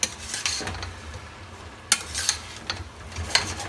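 Leek and potato soup being stirred in a pot, a soft wet churn broken by several light scraping clicks of a utensil against the pot, close and fairly quiet.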